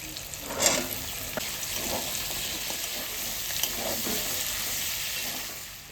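Chicken and potatoes fry in a pan for a spiced chicken ghugni, giving a steady sizzle with occasional scraping stirs of the spatula, close and moderately loud, with no voices.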